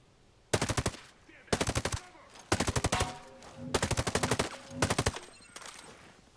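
Suppressed gunfire in Ghost Recon Breakpoint: five short, evenly spaced bursts of rapid muffled shots, each about half a second long and fairly loud, with quiet gaps between and no talking.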